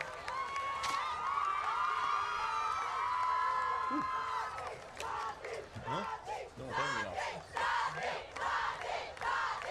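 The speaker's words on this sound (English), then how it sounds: "Please give one more round of applause and congratulations to this year's Homecoming King and Queen" A crowd at a high school football homecoming cheers and whoops from a distance, with a sustained roar that breaks into scattered shouts and yells.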